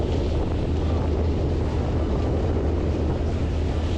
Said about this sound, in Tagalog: Malaki ng alon no?